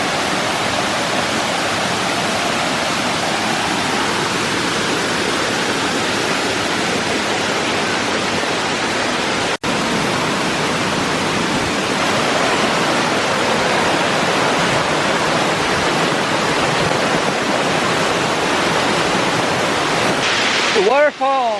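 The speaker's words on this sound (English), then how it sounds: "I guess with all the rain, the waterfall is huge and it's all down on this trail right here." A large waterfall swollen after heavy rain at Rock Island State Park pours down a cliffside in a steady, loud, broadband roar, close and continuous, with one brief dropout midway and a short voice near the end.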